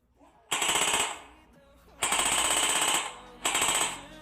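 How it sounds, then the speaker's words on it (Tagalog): Three bursts of rapid machine-gun fire, each lasting about half a second to a second, separated by short pauses, loud and sharp with a rattling, clattering texture. "ready na ang ating machine gun sound effect"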